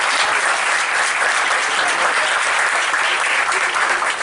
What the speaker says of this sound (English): let's give a very, very, very good round of applause to the captain, Captain Salvatore Marcello.